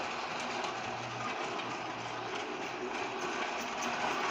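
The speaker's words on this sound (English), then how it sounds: "So that's how good those K-line motors are." A K-Line powered model train runs slowly at very low voltage, giving a steady faint motor whir with a soft low hum and light rolling noise on the track.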